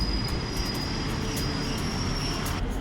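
A local Thai passenger train runs between Udon Thani and Khon Kaen, heard from inside as a loud, continuous rumble with rail noise and a thin high whine, no voices.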